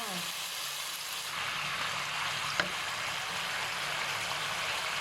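Pork belly curry paste simmers in a pan after water is added, making a steady close sizzle and bubbling hiss with a single sharp click midway.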